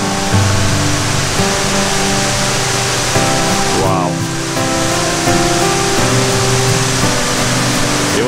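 The Poceta de Cristal waterfall in Cuba roars as a loud, steady, broadband rush close by, while people exclaim and talk over it.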